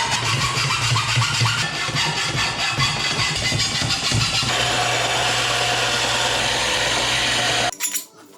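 A power tool cuts through pieces of 3-inch steel turbo exhaust pipe in a garage, a loud continuous grinding whine with a low engine-like hum that shifts pitch midway, then stops sharply near the end.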